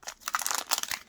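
The foil wrapper of a Pokémon card booster pack is torn open up close, giving a brief burst of crinkling and ripping plastic.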